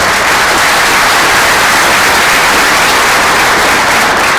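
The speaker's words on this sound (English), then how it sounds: "Can we give them a round of applause for doing this?" Audience applauding a panel at a morning innovation event, a continuous dense wash of clapping, loud and even from start to finish with no talk over it.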